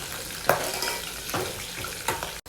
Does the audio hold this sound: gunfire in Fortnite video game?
no